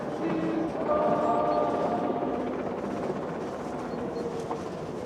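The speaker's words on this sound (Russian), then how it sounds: "мой первый швейцарский поезд" A Swiss mountain train runs steadily through the mountains, a continuous rolling rumble with a faint tonal hum, close and moderately loud, with no voices.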